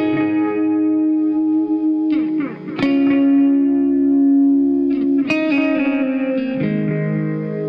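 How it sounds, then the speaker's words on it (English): Jazzmaster electric guitar played in eighth-note triplets through an MXR Carbon Copy Deluxe analog delay, sustained chords and single notes smearing into repeating echoes with a warm modulated wash, loud and close with no talk. "over to the Jazzmaster for some eighth note triplets on the carbon copy Deluxe."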